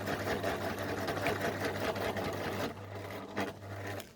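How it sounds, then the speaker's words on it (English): A sewing machine stitches backpack straps with a fast, steady mechanical whir close by, pausing briefly near the end as the stitching direction reverses. "So make sure you forward and back stitch. You want to make that really secure on the straps."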